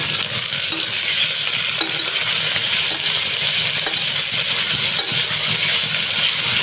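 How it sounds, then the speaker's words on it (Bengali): Onions sizzle in hot oil with curry leaves in a pan for dum biryani, a steady loud frying hiss broken by the scrape and clink of a spoon stirring. "পেঁয়াজটা ভাজা হতে থাক"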